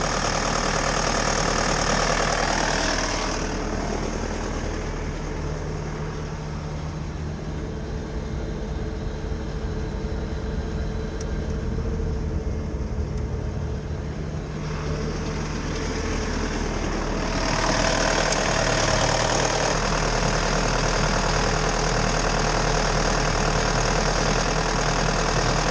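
A Bobcat skid steer engine runs steadily with its clutch engaged, a loud continuous diesel drone that dips in the middle and swells again, close by with no talk.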